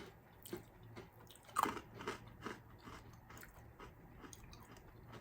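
Crispy coated corn snack being chewed up close, a string of faint, quiet crunches and bites in an irregular rhythm, with no talking.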